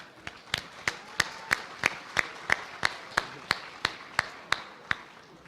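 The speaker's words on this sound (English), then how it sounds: "So let's give him a round of applause." A small group at a Kansas FFA state awards event claps in a slow, steady, evenly spaced rhythm, each clap sharp and distinct, fairly faint against a quiet room.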